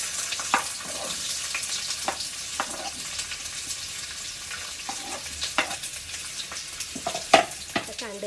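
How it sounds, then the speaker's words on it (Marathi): Onions sizzle and fry in hot oil in a pan for matar paneer, a steady crackling hiss broken by scattered pops and the occasional stirring scrape, with no talking. "आता त्याच्यामध्ये कांदा टाकून घेऊया."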